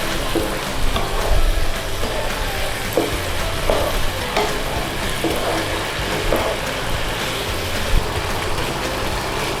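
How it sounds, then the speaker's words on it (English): Thai sweet pork (moo wan) bubbles and sizzles loudly as it cooks down and thickens in a pan, a dense continuous hiss with occasional soft stirring. "So all we need to do is let this cook down, thicken up without burning."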